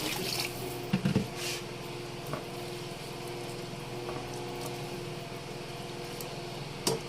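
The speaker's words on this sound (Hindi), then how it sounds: "यहाँ पे हमने 3 कप चावल लिए थे तो इसके साथ हम 5 कप पानी डालेंगे" Water pours steadily into a pot of rice, five cups over three cups of grain, for a potato tahari pulao, a continuous close rushing flow with a few brief clunks near the start and no talking.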